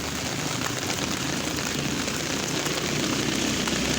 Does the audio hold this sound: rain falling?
yes